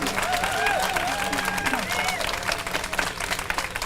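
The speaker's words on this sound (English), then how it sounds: "So I want you to give Reggie a big round of applause for having the courage to come to the United States." Rally crowd at a Moral Monday gathering in Charlotte applauds for Reggie, a steady wash of clapping throughout with voices and chatter mixed in.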